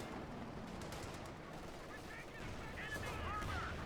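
Distant tank cannon and machine gun fire in a Company of Heroes 2 match, Wehrmacht against US forces, with a steady rattle of shots and muffled battlefield rumble under a quiet game soundscape.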